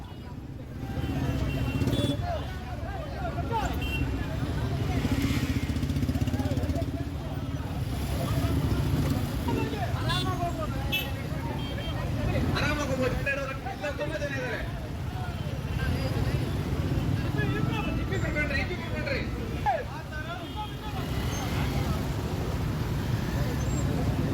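Motorcycles in a protest bike rally by Hindu organisations in Kolar, with a steady, loud mass of engine and traffic rumble sustained throughout while people talk over it.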